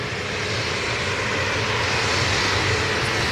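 Aircraft jet engines at Manchester Airport give a steady, loud, broadband roar that holds evenly throughout, with no voices over it.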